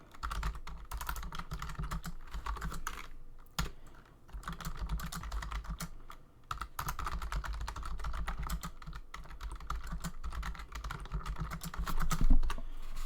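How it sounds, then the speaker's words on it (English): Continuous typing on a computer keyboard, busy and close, with brief pauses near 3.5 and 6.5 seconds and a low background hum underneath. "My microphone is sort of in the way of my typing."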